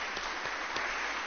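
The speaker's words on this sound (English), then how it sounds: "another round of applause is in order" Applause from a synagogue congregation at a Shabbat worship service, a steady broadband patter of many hands lasting just over a second, fairly soft and even, with no voices.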